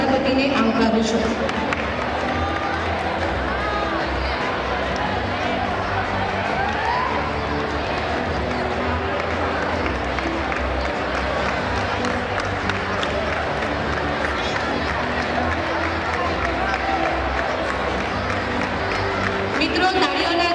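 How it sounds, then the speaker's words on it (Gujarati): A large school annual day audience applauds to welcome guests, steady dense clapping and crowd noise sustained for about twenty seconds without a break. "તાળીઓના ગડગડાટથી આપણે તેમને વધાવી લઈશું"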